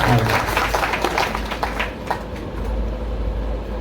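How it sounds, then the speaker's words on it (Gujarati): Applause from a satsang audience at an ashram gathering honoring a revered saint, a dense wash of clapping that runs steadily through the whole stretch with a low hum underneath. "જોરદાર તાળીઓના ગરગરાટથી"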